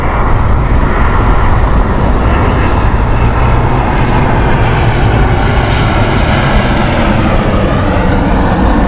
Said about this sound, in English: KLM 737-8 this is from Amsterdam